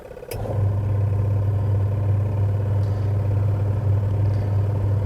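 A second-hand washing machine drum spins up after a click, settling into a steady low motor hum with a faint rattle that runs unbroken and fairly close.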